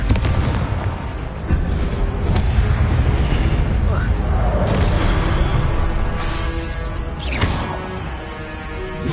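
Confringo blast spells go off in Hogwarts Legacy, loud booming explosions landing repeatedly over a dense, continuous wash of magical combat effects.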